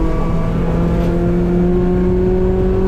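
Race car engine at GingerMan track, held at a loud steady high drone as the driver gets on the throttle early through a corner, close and continuous with no talk.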